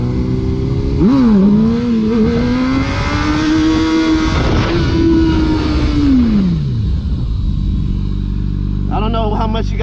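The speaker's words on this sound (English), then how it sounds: "I'm gonna just do a couple wheelies for you." Motorcycle engine revving hard and rising in pitch as the rider pops clutch-up wheelies on a lot where cars have done burnouts; loud, close and sustained, with the engine dropping off and another rev at the end.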